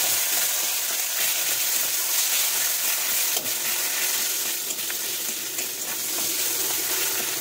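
Boiled onions frying in hot oil with a pinch of asafoetida, a steady loud sizzle throughout with faint stirring scrapes and no talking.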